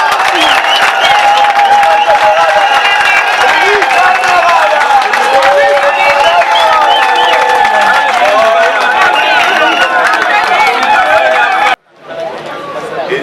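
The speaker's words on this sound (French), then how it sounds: "je vous invite vraiment à vous lever et à l'applaudir" A large crowd at a UDPS party congress applauds and cheers for Jean-Marc Kabounde, loud sustained clapping with shouting and chatter that cuts off abruptly near the end before a quieter murmur returns.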